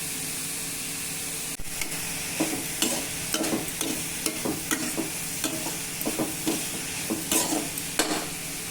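Steady sizzling of vegetables frying with tempered onions in a pan, with repeated scraping and clinking strokes as the contents are stirred at an irregular rhythm.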